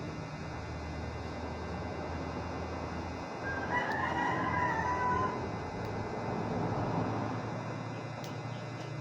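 A rooster crows once from a moderate distance, a single stretched call rising above steady low background noise with no talk.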